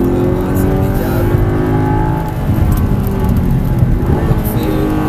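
An Audi R8 V8 accelerates on a race circuit, its engine roaring loudly and continuously from inside the car with a slight dip midway, no voices clearly over it.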